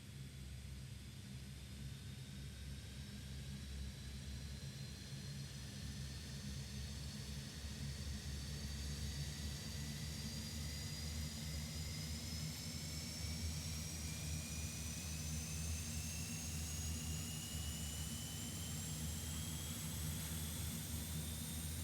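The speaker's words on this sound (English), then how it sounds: "Go ahead and ignition to the on position. And feathering engine number 1." Airbus A400M turboprop engines spooling up in a flight simulator, a faint steady whine rising slowly in pitch over a low constant drone, with no voices.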